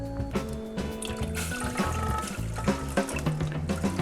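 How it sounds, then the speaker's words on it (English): Pork meat juices pour from a pan in a narrowboat kitchen, a steady close liquid trickle and splash that runs throughout under some clinking. "And now I'm going to pour some of the porky meaty juice."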